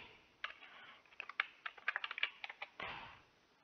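Keystrokes on a computer keyboard as a Linux terminal command is typed on Ubuntu: a close, uneven run of crisp clicks with a short burst of quick taps, ending in a louder key press.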